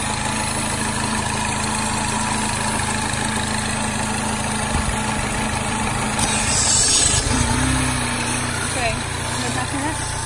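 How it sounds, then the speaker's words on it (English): A 2009 Mini Cooper S (R56) engine idles steadily throughout during a Seafoam treatment, a continuous rumbling hum with a voice speaking briefly over it. "you're gonna hear the engine"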